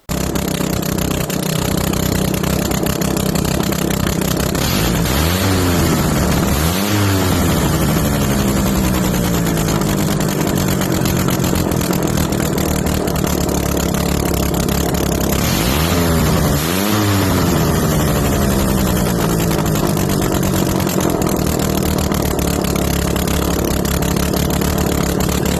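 Wankel rotary snowmobile engine running with no exhaust fitted, a loud, steady raw drone held close throughout, with two sweeping revs rising and falling midway.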